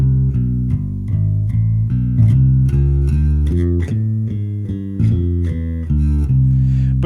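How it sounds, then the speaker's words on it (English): Bass guitar walks a steady line through a 1-6-2-5 progression in C, one even note per beat, loud and alone with no talking. "a walking bass line through a simple 1-6-2-5 progression in C might sound like this"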